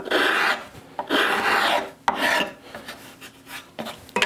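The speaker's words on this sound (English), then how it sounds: "A little bit of sandpaper, or just coming back with a mill file" A metal mill file drawn across wood to bring it to a finish, rasping in four or five long, close, rhythmic strokes separated by short pauses, with no talking.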